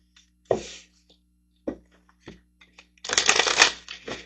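A deck of manifestation cards handled and shuffled: a few sharp isolated card taps and flicks, then a dense riffling burst of cards for about a second near the end.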